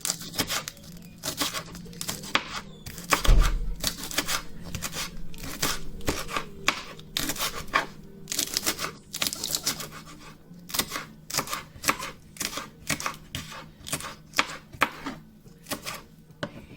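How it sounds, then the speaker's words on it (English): Rapid, steady knife chops on a cutting board as vegetables are cut small for an aubergine and potato curry, a dense run of close, crisp taps lasting throughout, with no talk. "Chop small as you can, and then sideways, lengthways, however you want to."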